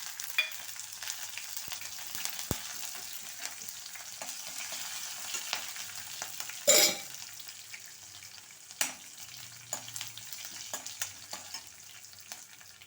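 Urad dal, mustard seeds and cumin sizzle and fry in hot oil in a home kitchen, a steady close crackle with scattered pops and a brief louder splash as they hit the pan.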